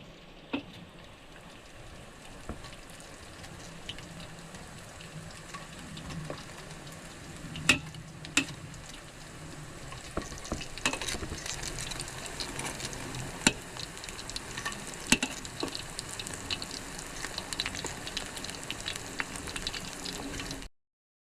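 Siomai with eggplant (talong) fry in a pan, giving a steady crackling sizzle throughout. Sharp pops and spatters come through now and then, and the sizzle grows busier and louder in the second half.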